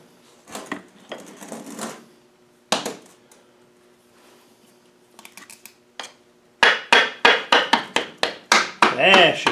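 Sharp metallic hammer taps on a Land Rover LT230 transfer case, fitting the intermediate gears into place during a rebuild, with a worn fiberglass-handled hammer; a rapid run of loud close strikes follows a few scattered knocks and brief talk.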